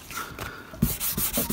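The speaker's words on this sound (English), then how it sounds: "a very fine emery sandpaper will help just sort of lift some of that" Fine emery sandpaper rubs over scenery on an OO gauge model railway layout, several short scratchy strokes in quick succession, close and fairly loud.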